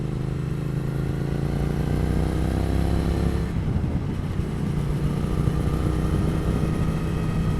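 A Triumph Thruxton R motorcycle ridden along countryside roads, its engine droning loud and steady with a rising pitch, a brief shift in tone midway, then pulling on strongly, heavy wind rush underneath.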